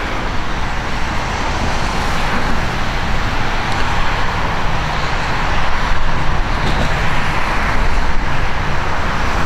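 Road noise fills the cabin of a 2008 Toyota Camry LE on the move, a loud, steady broadband rumble of tires on pavement that swells slightly later on, with no distinct bump impacts standing out.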